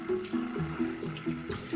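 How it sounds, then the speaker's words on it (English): Butter and brown sugar bubble and gurgle in a hot pan, a close, continuous liquid burbling with rhythmic pulses of bubbles rising and popping, with no talk. "if it's gurgling like that, that means the butter is coming up to be above the boiling point of water"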